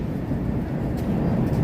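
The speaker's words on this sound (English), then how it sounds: "Here comes a train," A CTA L Pink Line elevated train approaching a station in the Chicago Loop, a steady loud low rumble and roar filling the whole stretch with city ambience.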